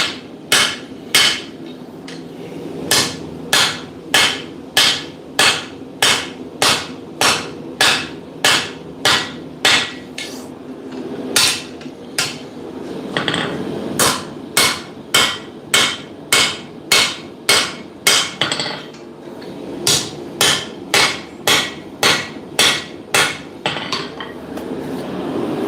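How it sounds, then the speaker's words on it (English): Hammer forging a steel dagger blade, loud ringing metallic blows struck in quick regular runs, with short pauses between the groups of strikes. "Should not be forging daggers."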